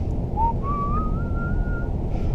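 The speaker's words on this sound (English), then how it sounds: "Why did I whistle?" A person whistles a short, thin melody of a few rising and sliding notes, close and clear over steady low background rumble, with no talking.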